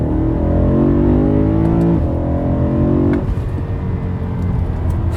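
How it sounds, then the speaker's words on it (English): A BMW E90 M3 with DCT and a naturally aspirated engine pulls hard through the gears, its rising whine climbing in pitch, dropping briefly at a shift, then climbing again, loud and close. "the unbelievable naturally aspirated engine that wants to be driven and just making all the right noises"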